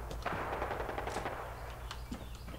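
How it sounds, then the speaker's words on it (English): Rapid bursts of automatic gunfire from the video game Fallout 4 crackle repeatedly over a low, steady hum, with scattered single shots between the volleys. "Is there gunfire down there?"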